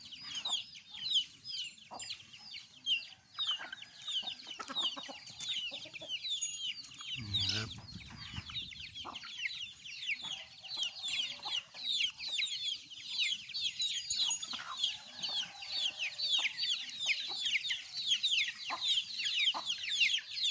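A crowd of fighting-breed chicks peeps and cheeps continuously in busy, overlapping high chirps, close by, with a brief low thump partway through.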